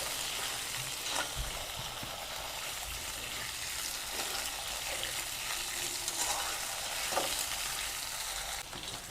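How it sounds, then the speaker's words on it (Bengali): Potatoes fry in oil with whole cumin seeds, giving a steady broadband sizzle throughout, with occasional soft stirring scrapes rising briefly above the hiss; no one speaks. "এই আলুটা এবার আমি দিয়ে দেবো জিরের সঙ্গে, গোটা জিরের সঙ্গে আলুটা ভেজে নেব।"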